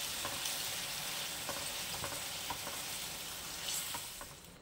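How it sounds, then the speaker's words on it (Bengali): Fish masala with water, milk, yogurt and sugar being stirred in a pan, a steady soft sizzle with faint, irregular scraping strokes throughout. "এবার এটাকে আমি ক্রমাগত নাড়তে থাকবো"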